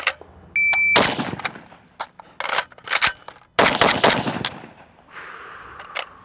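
A suppressed Galil ACE 556 rifle fires several sharp, loud shots in quick uneven bursts, each crack followed by a short ringing tail, with quieter gaps between strings.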